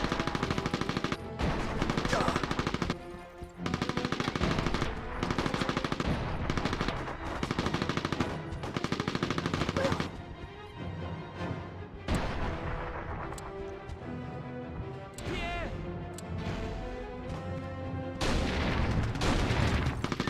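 Artillery and machine-gun fire in a video game battle: continuous loud volleys of booms and rapid bursts layered densely for the whole stretch, with a brief lull midway before the barrage resumes.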